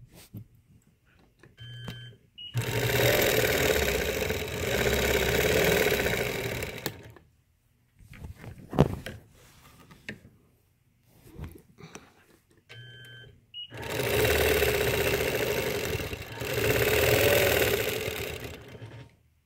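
Quilting machine stitching along a ruler, two separate bursts of fast steady whirring of several seconds each, close and loud, with short beeps and quiet handling clicks in the pauses between them.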